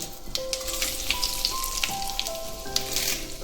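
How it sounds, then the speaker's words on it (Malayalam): Mustard seeds spluttering in hot coconut oil make a dense, quick crackle of small pops over a soft sizzle, close to the pan, with no one speaking. "വെളിച്ചെണ്ണ ഒഴിച്ചിട്ടാട്ടോ കടുക് ഇട്ടത് കടുക് പൊട്ടിക്കഴിയുമ്പോൾ വറ്റൻമുളക്"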